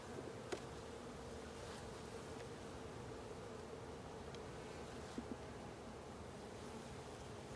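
Honey bees hum at an open hive in a steady, soft, continuous drone, with an occasional faint tap.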